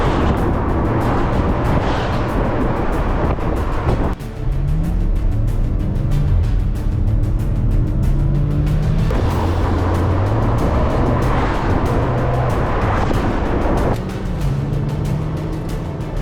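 A 2015 Porsche Macan Turbo drives with a loud engine note rising and falling through gear changes, the revs climbing in repeated sweeps with passing road noise.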